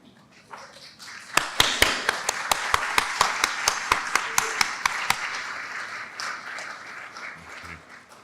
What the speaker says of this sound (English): graduates, if you would mind standing up and turning around and applauding those who are here with you today